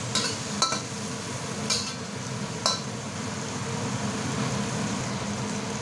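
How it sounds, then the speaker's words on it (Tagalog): Tomatoes sauté in a pan for a Filipino mung bean dish, a soft steady sizzle broken by three sharp clinks of a utensil against the pan. "Medyo naluluto na yung kamatis"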